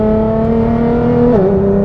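Engine of a 2018 Nissan GT-R droning at steady high revs while driving, heard from inside, with a brief pitch dip near the end as it shifts or eases off, loud and continuous without talk.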